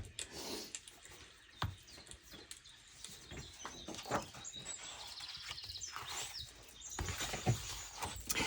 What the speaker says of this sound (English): You hear my birds?